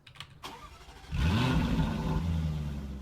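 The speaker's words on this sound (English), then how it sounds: "That sounds like a muscle car. Let's hear that again. It sounds like a muscle car. That is a muscle car startup" A muscle car engine in the video game Wayfort cranks briefly, then catches and roars to life with a deep, throaty rumble that settles into a loud, steady idle.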